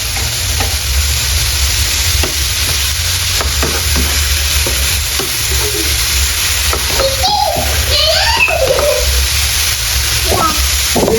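Food frying in a pan while salt is stirred in, a loud steady sizzle with scraping stir strokes, a brief voice surfacing in the middle.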